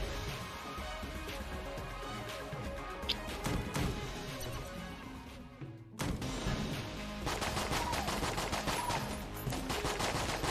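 Dense, continuous barrage of video-game gunfire in Enter the Gungeon, rapid overlapping shots and crashes from a room-clearing weapon and a boss gun, loud throughout with a brief dip near the middle before resuming.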